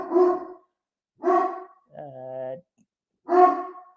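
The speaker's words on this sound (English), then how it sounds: "Can you hear my dog," A dog barks three times, loud and close, with a short whining yelp between the second and third barks in an otherwise quiet room.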